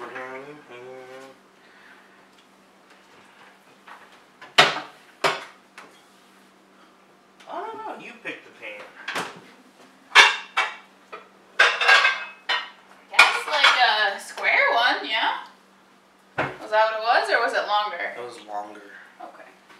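Metal pans and cutlery clatter and clank in bursts as someone rummages through a kitchen drawer, with people talking over and between the clattering.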